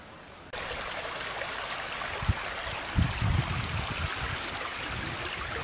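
Water steadily flows and trickles at a Kneipp wading pool near the Uchte stream in Uchtspringe, a constant soft gurgling wash that begins just after the start, with a few louder splashy bubbles near the middle, heard alone.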